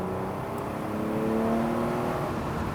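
A Mercedes W124 E-Class accelerating hard with the throttle flat to the floor, a steady, rising engine drone heard from inside the car, continuous and moderately loud with no talk.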